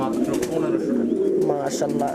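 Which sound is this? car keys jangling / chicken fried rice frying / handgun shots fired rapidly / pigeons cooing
pigeons cooing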